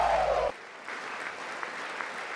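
Applause in the chamber during a State of the Union address, a steady mass of clapping after a short burst of other sound, fairly distant and even.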